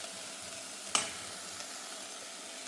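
Vegetables sizzle in a steel kadhai as they are stirred, a faint steady fry hiss broken by one sharp scraping clink of the spoon against the metal.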